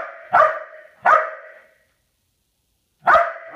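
A police dog barks in sharp, loud bursts close by, two quick barks followed after a pause by a third, with nothing else heard between them.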